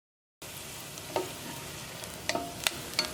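Onions sizzle quietly in a pan for a garlic red chilli curry, with a soft steady fry broken by a few sharp scrapes and clinks of a spoon stirring.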